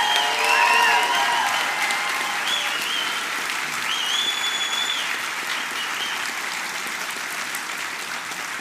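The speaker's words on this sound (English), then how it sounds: "How about we all give a round of applause to the graduates for their persistence and commitment." Audience at a 2017 Trent University Durham convocation ceremony gives graduates a sustained round of applause, dense clapping with a few whistles near the start, gradually easing off.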